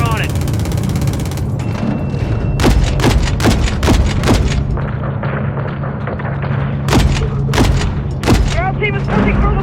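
Heavy B-52 bombing in Call of Duty MW3, a rapid series of deep booming blasts and thuds over a low rumbling drone, loud and close, with game radio chatter in between.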